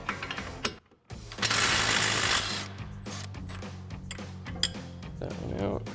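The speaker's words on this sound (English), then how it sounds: "you may have to switch out to your air-powered impact, which we're doing right now" An air-powered impact wrench with a 24mm socket spins off knuckle-to-strut nuts on a 2016-2024 Camaro during a coil-over install: a loud sustained burst of hammering rattle, then shorter mechanical clatters, with a voice nearby.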